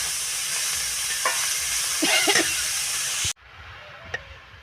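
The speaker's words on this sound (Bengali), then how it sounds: "এবার দিয়ে দেব ভেতর শাকটা।" Tender green leafy vegetables hitting a hot pan for a fish-head greens dish, a steady hissing sizzle with stirring clatter before it cuts off abruptly to a quieter background with one faint knock.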